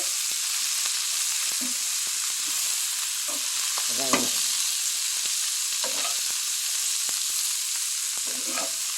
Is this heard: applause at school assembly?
no